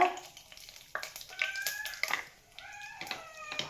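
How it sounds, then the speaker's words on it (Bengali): Cumin seeds crackle and sizzle as they drop into hot oil, a short burst of frying hiss that comes and goes, mixed with scattered tonal background sounds and light kitchen clatter. "তেল গরম হয়ে গেছে, এখন আমি এর মধ্যে দিয়ে দেব জিরা"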